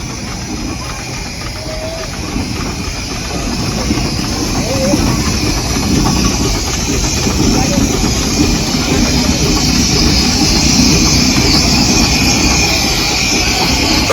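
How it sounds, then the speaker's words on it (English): A Fowler Showman-style steam traction engine chugs and rumbles steadily nearby at a steam engine rally, a continuous low mechanical drone that grows slightly louder after a few seconds. "it's a Fowler Showman style tractor, and it's owned and driven by the Bush family"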